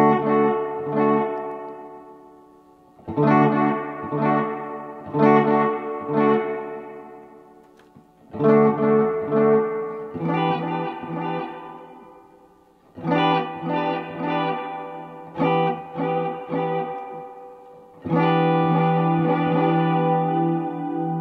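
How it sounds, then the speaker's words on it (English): A Strymon Volante tape echo effect on guitar, with phrases of harmonically rich, sustained chords recurring in bursts and repeats shifting in rhythm as the spacing knob is moved, loud and without talk. "when you start moving the knobs while it's sounding, you'll actually start hearing the, almost like the tape heads moving across the tapes"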